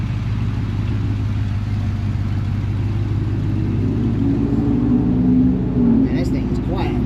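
A 1976 Chevy Luv truck engine with a new exhaust system runs steadily, a low, even rumble close by with a slight rise in pitch toward the end; no one speaks.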